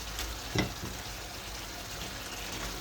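Gulsha fish dropped into a pan of frying tomato and onion, giving a brief burst of sizzle over a steady close-up frying hiss.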